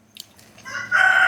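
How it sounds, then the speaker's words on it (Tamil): A rooster crows nearby, a single loud call that swells quickly and holds, preceded by a faint clucking. "கோழி கூப்பிட்டுருச்சு"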